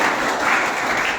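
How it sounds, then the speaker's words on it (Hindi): A crowd at a poetry gathering in Machhlishahar claps warmly in honor of a garlanded poet. A brief, steady burst of mid-distance applause with no voices over it. "पूरी गर्मजोशी के साथ एक बार तो फिर से तालियों से इस्तकबाल करिए"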